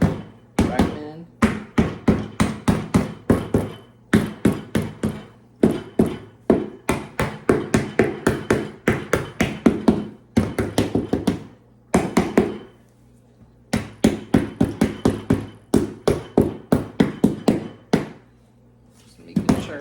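Hammer blows land in rapid bursts of sharp, close taps while a living room is decorated, with brief pauses between runs and the strikes carrying on steadily throughout.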